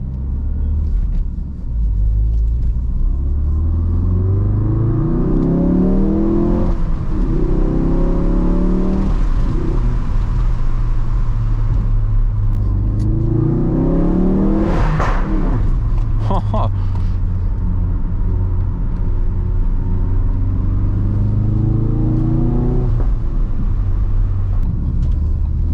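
A Ford Focus RS driven through a tunnel, engine note climbing through repeated rev sweeps and gear changes, loud and reverberant inside the cabin, with occasional pops and a voice speaking over it.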